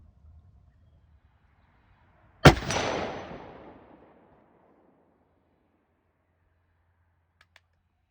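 A single loud blast from a .54 caliber Hawken muzzleloader rifle, sharp and close, with a rumbling report that decays over about a second and a half before quiet returns.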